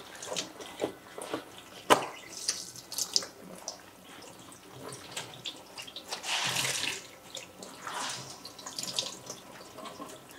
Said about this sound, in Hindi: अभी मैं इसमें से अच्छी तरह से पानी निकालती हूँ